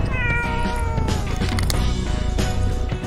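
A cat meows and yowls repeatedly up close, drawn-out cries over a busy, steady background bed; no one speaks.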